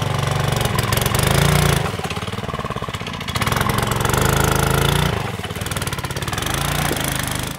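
A car engine revs hard as the driver floors the gas, its loud mid-pitched drone surging and easing in repeated waves with short lulls between the bursts.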